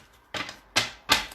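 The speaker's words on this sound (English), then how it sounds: "I like to do a poker shuffle on the cards that I'm reading with" Tarot cards getting a poker shuffle, with three crisp, separate bursts of card riffling close up, each one ending in a sharp slap.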